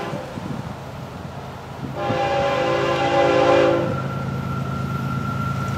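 FEC105 freight train passing with a sustained multi-tone horn blast lasting about two seconds over a steady rumble of the train.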